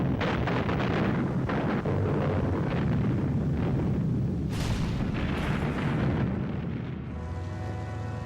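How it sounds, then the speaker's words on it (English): A massive Soviet artillery bombardment from July 1943 rumbles as a dense, continuous barrage of deep booms, with sharper, louder blasts standing out midway before the roar eases slightly at the end. "they were hit by a huge Soviet artillery bombardment"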